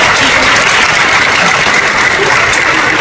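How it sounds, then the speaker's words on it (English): Loud, dense applause from an audience of language learners at a ceremony fills the whole stretch as a continuous roar of clapping, with no speech over it. "Please, give yourselves a round of applause."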